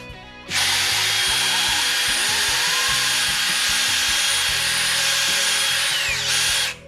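A fishing rod grip is reamed out with a steady, loud whirring power tool that runs continuously for several seconds with a grinding, rubbing texture before stopping.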